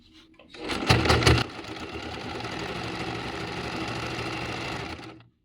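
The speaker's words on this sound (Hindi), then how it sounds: "अब ये चारों तरफ से तो स्टिच हो गया है" An electric sewing machine stitches a sofa cover: a loud burst of rapid needle strokes, then a steady, even whir that runs for several seconds before stopping.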